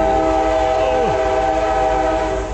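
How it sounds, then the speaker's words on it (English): Loud, close rumble of a passing freight train with a sustained horn-like tone and steady roaring noise, no voices. "there goes a train."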